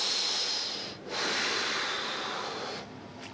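Close, loud breaths drawn in and pushed out through the nose and mouth in long airy strokes with a short pause near one second and another near the end.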